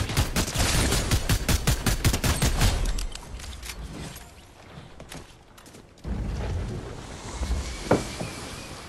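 Gunfire in Fortnite, a rapid string of loud automatic shots for about three seconds, then quieter scattered mechanical sounds before more game noise and a single sharp shot near the end.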